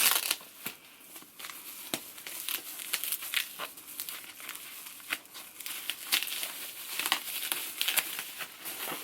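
A Saint Laurent bag package sealed with masking tape is opened, giving close, crisp crinkling and tearing of tape and paper in uneven bursts, with a few louder rips among softer rustles.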